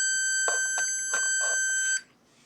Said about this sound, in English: if we put it between and it beeps, that means that it is magnetic.